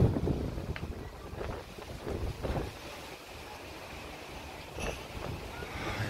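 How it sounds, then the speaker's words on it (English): Strong wind buffeting a microphone on an Icelandic road during a velomobile ride, a continuous rough roar with gusty swells, close and fairly quiet overall. "The wind is extremely strong."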